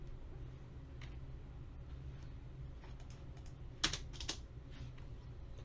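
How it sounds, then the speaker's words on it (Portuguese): A single enter key pressed on a computer keyboard, a close, faint click that follows a few scattered soft keystrokes, all over a low steady room hum. "Se eu der aqui um enter, deixa eu ver."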